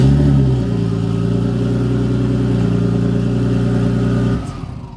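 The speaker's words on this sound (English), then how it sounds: "There's no exhaust, of course it's gonna be loud." Nissan Skyline engine with no exhaust fitted, running loud and close with a harsh, droning idle; revs dip slightly early on, hold steady, then cut off abruptly near the end, leaving a faint tail.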